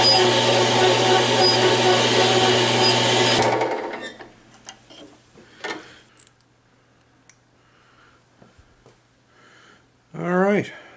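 A band saw cuts dry through a workpiece against a fixture plate, a loud, dense, steady grinding whine for about four seconds that stops abruptly, followed by quieter shop clatter and a brief voice near the end.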